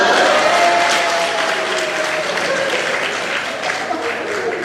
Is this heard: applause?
yes